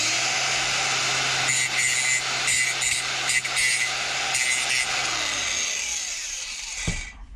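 An angle grinder bites into aluminium metal from a disposable vape during a spark test. It gives a steady, loud whining grind that holds for about six seconds, then winds down, ending with a brief knock.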